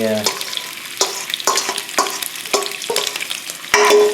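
Food fries briefly in a pan for a vegetarian appetizer platter, repeated scraping strokes of a utensil stirring through a crackling sizzle, close and fairly loud, with a sharper clatter near the end and no talking.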